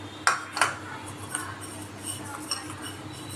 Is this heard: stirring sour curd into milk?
yes